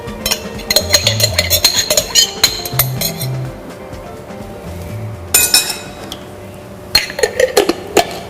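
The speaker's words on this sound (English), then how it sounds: "I'll tip in a jar of the Niger Alafia tomato cooking sauce" A glass jar of Niger Alafia tomato cooking sauce is tipped into rice for jollof, giving a run of close, bright clinks and taps of glass on the pot, with quieter scraping between them and no talking.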